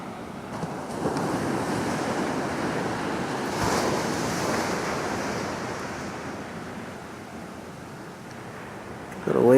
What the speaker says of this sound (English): Little wave action today.